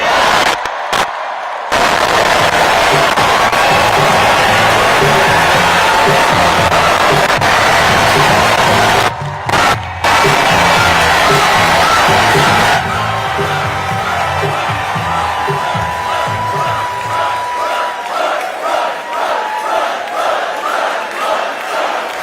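A large outdoor crowd at a Biden campaign rally in North Carolina roars continuously, loud and dense, with brief cutouts. Later, scattered whoops and cheers rise over a thinner, fading roar.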